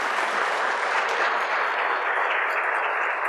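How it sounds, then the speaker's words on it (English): A big round of applause from a conference audience at a rental housing summit, a thick, steady wash of clapping that holds at the same loud level throughout, with no talking. "Let's give them all a big round of applause."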